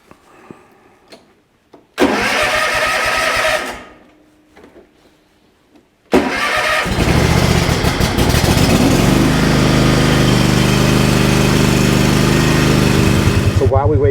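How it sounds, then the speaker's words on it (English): A lawn mower engine is started up on a property by the Mississippi River, with a short burst, a pause, then a loud, steady close-up run that drones on without interruption. "While we wait for the lawnmower to run out of gas"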